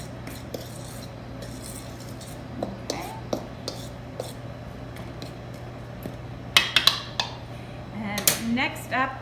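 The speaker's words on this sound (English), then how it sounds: "Whisk all of that in." A whisk works through scone dry ingredients with fresh ground cinnamon in a bowl, making soft scraping and rhythmic light taps against the sides, growing into louder clinks near the end.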